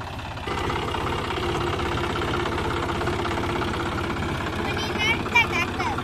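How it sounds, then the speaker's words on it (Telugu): Tractor engine running steadily nearby, a constant low chugging rumble throughout, with voices talking over it toward the end. "అగ్గో నాని ట్రాక్టర్ నడుపుతాడు"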